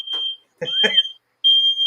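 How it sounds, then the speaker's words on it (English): A household smoke alarm sounds in loud, shrill, high-pitched electronic beeps: one at the start and another at the end, with a voice briefly speaking in between. "Your fire alarm going out, bro?"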